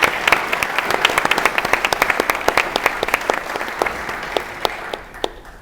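An audience at a book presentation in Treviso applauds, a dense patter of many hands that holds steady for several seconds, then thins and dies away to a few last scattered claps.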